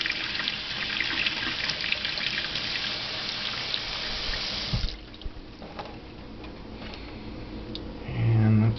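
Running water rinsing gunk out of a hang-on-back aquarium filter, a steady close splashing stream that drops to a softer trickle and dribble partway through, with a brief low thump near the end.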